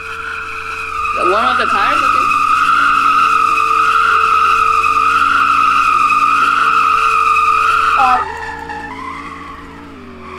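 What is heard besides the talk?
car warming up tires with a burnout, tire squeal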